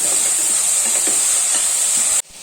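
Onions sautéing with salt in hot oil for an egg curry give a loud, steady hiss close up, which cuts off abruptly at the end, with no speech over it.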